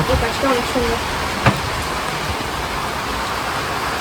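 Rain falls in a steady, even hiss, fairly loud and constant, with a brief voice early on and a single soft knock.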